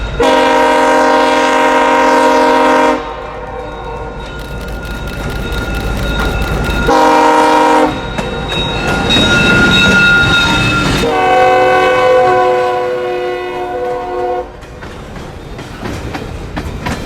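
CSX freight local on the Carrothers Secondary led by SD23T4 locomotive #17 in Ohio, sounding long, loud horn blasts close by while cars rumble and clatter past over the rails.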